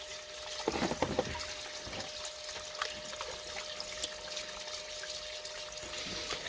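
Water poured back into a gold rocker sluice while testing flour gold recovery: a short splashing pour near the start, then a soft, steady trickle continuing close by.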